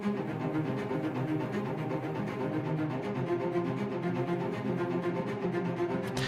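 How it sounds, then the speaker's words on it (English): Low, short spiccato string notes bounce in a steady, busy counter line, forming a continuous dense texture at moderate volume. "So I have this counter line here in this dolce spiccato patch."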